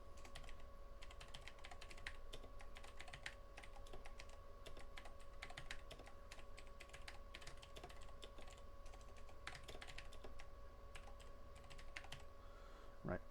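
Steady, quiet typing on a computer keyboard, with rapid irregular key clicks continuing for several seconds and a low background hum.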